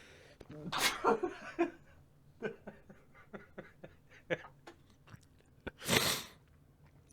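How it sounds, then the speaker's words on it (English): Someone talking on a live stream breaks off with one loud, sharp sneeze near the end, close to the microphone, after scattered soft mouth noises and short vocal sounds. "Whoa, I just sneezed while talking."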